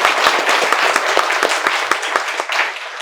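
A room of students at a coding institute claps in an audience, a dense burst of applause with sharp individual claps heard close and loud throughout.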